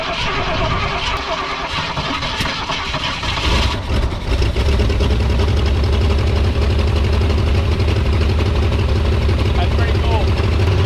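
Straight-six engine of a Ford Falcon wagon, just rolled out of a barn, sputtering then catching and running steadily, loud and close, with people talking over the rumble.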